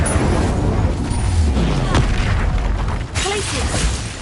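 A fire spell blast in the Hogwarts Legacy video game, part of a loud, dense stretch of booming magical combat, with a voice calling out over the heavy continuous roar.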